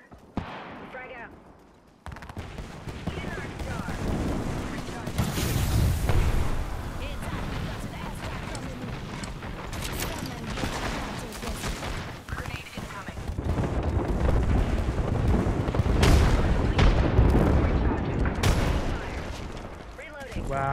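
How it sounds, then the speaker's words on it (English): Rapid bursts of gunfire and booming explosions from an Apex Legends firefight, loud and continuous across the whole stretch, with a player talking over the shooting. "I'm getting shot at."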